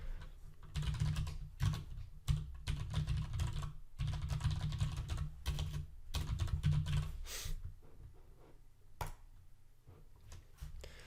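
Rapid typing on a computer keyboard while entering an email address on a store signup page, steady clicking in bursts with short pauses, close and fairly loud, with no voices.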